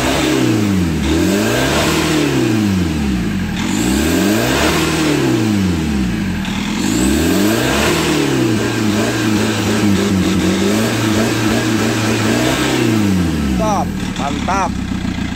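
A Chevrolet Captiva AWD with a turbocharged engine and a throttle fault revs repeatedly, each loud, close blip rising and falling in a regular sweeping rhythm, while people talk over it.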